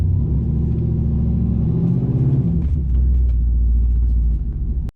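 A turbocharged GMC truck driving on a damp road, heard as a loud, continuous engine rumble that deepens and swells partway through, then cuts off abruptly at the end.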